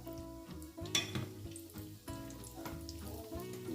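Beignets in hot oil are turned over in a Senegalese kitchen, giving a soft sizzle mixed with light clinks of a utensil against the pan.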